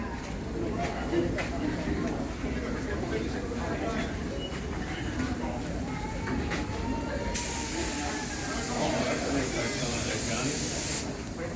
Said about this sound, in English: John over here is demonstrating a paint gun.